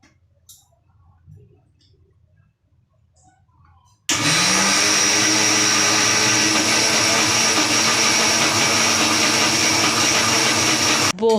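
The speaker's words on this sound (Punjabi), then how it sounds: "ਦਾਲ ਪੀਸਣੀ ਉਹ ਮਿਕਸੀ ਦਾ ਕੰਮ ਹੈ" A mixer grinder (mixie) grinding lentils starts abruptly after a quiet stretch and runs loud and steady with a whirring, rattling drone until it cuts off at the end.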